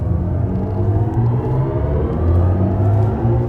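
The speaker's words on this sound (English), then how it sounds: "We need to talk about these iconic sounds that Hans Zimmer has composed for this car" A 2024 BMW i7 M70 electric sedan plays its synthetic drive sound composed by Hans Zimmer: a steady, close humming drone with layered tones that swell and shift in pitch, heard alone without talk.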